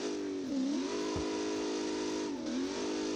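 A car drives in BeamNG Drive during a test drive, its engine droning steadily with two quick revving dips and rises, loud and close, with a brief low thump in between.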